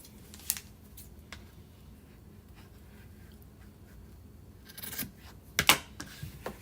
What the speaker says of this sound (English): I'm going to do a little snippy snip